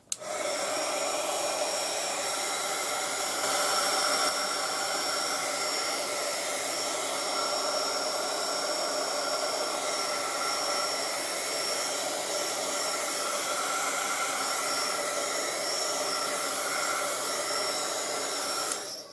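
A hair dryer blows on a freshly painted watercolor, a loud, steady, close airy roar running unbroken for about nineteen seconds.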